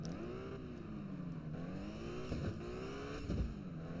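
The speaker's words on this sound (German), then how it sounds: "Der Wagen lässt sich wirklich sehr schön fahren" A Mercedes-Benz CLS 55 AMG's engine drones steadily from inside the car, its pitch gently rising and falling with the revs, with a couple of brief thumps from the road.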